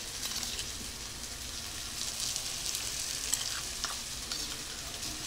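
Ginger, cumin and green chilli paste fries in hot oil, giving a continuous close hiss and sizzle with faint stirring touches throughout.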